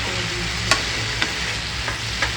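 Banana flower and pre-fried prawns cooking together in a pan, a steady soft frying hiss with a few sharp stirring clinks and scrapes spaced through it, close and alone without talk.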